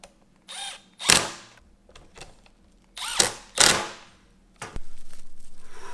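A power drill driving Torx screws into an Acura TLX Type-S steering wheel, with several short close whirring bursts separated by pauses, then a sustained run with a fast ratcheting pulse at the end.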